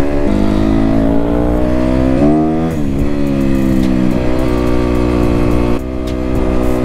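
Newly bought motorcycle accelerating on the road in third gear, its engine pitch climbing through revs and stepping up between gears, loud and close throughout with steady wind noise.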